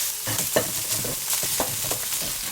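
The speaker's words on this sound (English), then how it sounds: "the onions are now sizzling in the oil that they've released" Onions sizzle steadily in hot oil for matar paneer, a constant close hiss broken by soft scraping stirs, with no voices.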